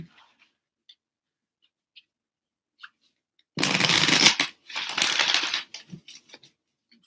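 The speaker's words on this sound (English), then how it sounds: "one more shuffle." A deck of Kuan Yin oracle cards is riffled twice in quick, crisp bursts, surrounded by a few faint taps and clicks in an otherwise quiet room.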